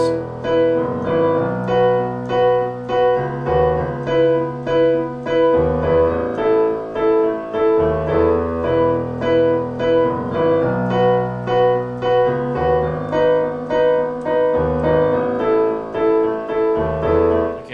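Piano played with both hands, the verse of a song: a steady low bass pattern under repeated chords and a melody, in an even, rhythmic pulse throughout. No talking.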